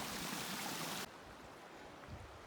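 Cataract Creek rushes under a new bridge as a steady, broad wash of flowing water, loud and close at first, then abruptly quieter and more distant, with no voices.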